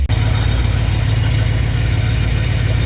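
A 1972 Dodge truck with a used replacement engine runs steadily at a close, loud idle, its low rumble even and unbroken after a brief start.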